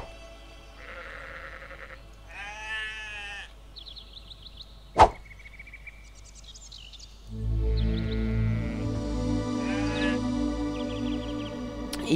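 Sheep bleat several times in Black & White, the calls near and clear and scattered across the scene, with a sharp click and a low musical bed rising toward the end; no one speaks.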